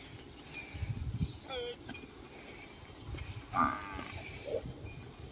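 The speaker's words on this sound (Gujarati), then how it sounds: "આ બકરા જાય" Goats herded outdoors bleat several times at middle distance, scattered among footsteps and rustling while a person talks.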